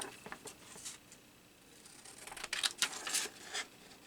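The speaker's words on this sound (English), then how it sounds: "I'll just cut this out." Scissors snipping paper out of a journal page for a collage, a few quiet, crisp cuts near the mic that grow busier toward the end, with no talking.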